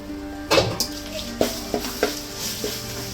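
Ginger garlic paste sautés in a pan, with a soft steady sizzle under several clear scrapes and knocks of a spoon against the metal.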